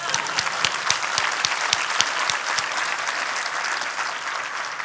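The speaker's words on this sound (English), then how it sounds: "Let's get a round of applause, I guess." A conference audience at a 2019 RStudio tech talk claps steadily for about five seconds, with dense, even hand claps and a few sharper individual smacks standing out near the front.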